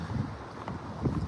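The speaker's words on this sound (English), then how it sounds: "Very windy, very cold." Strong cold wind buffeting outdoors on a dog walk, loud gusty rumbling bursts pushing against the microphone, with no voices.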